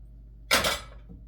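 A really old wooden popcorn bowl picked up and set down in a kitchen, one short hollow knock and clatter in an otherwise quiet room.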